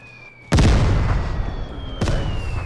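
Mortar strike in the game Vigor: two heavy blasts about a second and a half apart, each a sharp loud boom rolling into a long rumbling decay, close and dominating.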